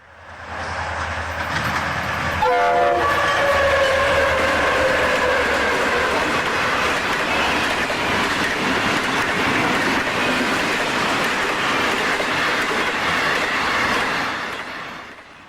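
An FEC freight train roars past steadily and loudly for several seconds, with a brief horn-like tone near the start and continuous rumbling wheel noise.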